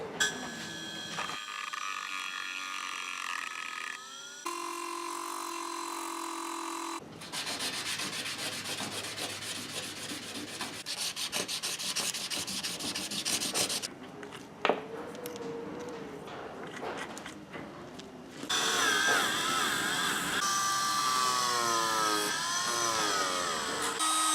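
Metal edges of a replica lightsaber part being ground down, with continuous harsh rasping and rubbing in long stretches that shift in pitch and intensity, close and steady, no voices.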